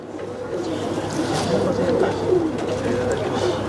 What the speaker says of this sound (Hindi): अंजम भाई, अभी माशाल्लाह ये कबूतर आपके हाथ में है